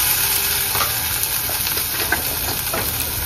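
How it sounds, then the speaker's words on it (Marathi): Turmeric sautéed in hot oil for a cashew curry, a loud, steady frying hiss with soft scraping from stirring, close up and uninterrupted by speech. "आता आपण हळद टाकून घेऊया आणि परत एकदा व्यवस्थित परतून घेऊया"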